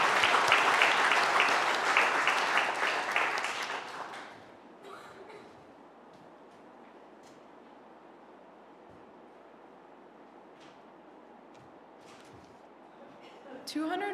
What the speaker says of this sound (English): let's bring a round of applause for Martha.